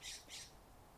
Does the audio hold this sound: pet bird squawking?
yes